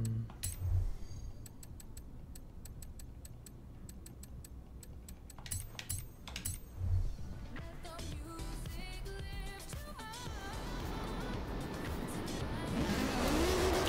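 An Audi Quattro in Forza Horizon 4 drives with engine noise rising steadily, starting quiet with ticking and clicking sounds, then building into a loud, revving roar toward the end.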